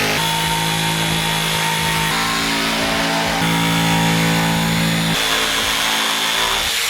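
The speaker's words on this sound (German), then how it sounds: "jetzt wird das Ganze mit einer Stichsäge ausgeschnitten" A jigsaw cuts out a wooden side panel for a ramp, a loud steady buzzing drone whose pitch shifts a few times as the cut goes on, running continuously throughout with no talking.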